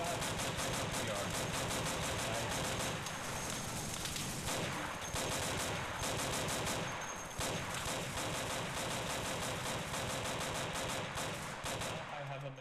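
Sustained machine gun fire and overlapping gunshots in an Insurgency battle, a dense, loud, continuous barrage of crackling bursts filling the whole stretch with little pause.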